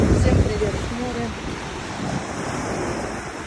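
Black Sea waves wash onto the shore at Sochi on a hot October day, a steady rushing surf mixed with gusty wind buffeting the microphone, loudest at the start and then settling into a constant hiss.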